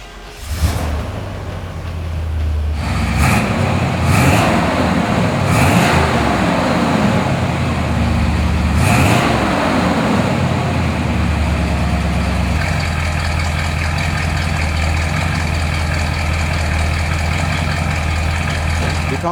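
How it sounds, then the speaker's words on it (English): A 1969 Oldsmobile Hurst 442 V8 cranks, fires and blips the throttle several times, then settles into a loud, steady, rumbling idle up close. "How about I start it up for you so you can hear what it sounds like."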